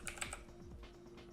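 Several quick keystrokes on a computer keyboard in a short burst, close and fairly clear, with a steady low hum underneath and no talking.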